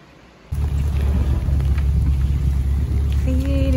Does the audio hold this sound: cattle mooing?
no